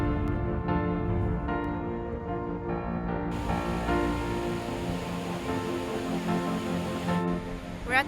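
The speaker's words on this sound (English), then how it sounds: "We just went to our 8th waterfall, Wahclella Falls." Steady rushing roar of water from Wahclella Falls in the Columbia River Gorge, a broad continuous wash heard close and loud throughout.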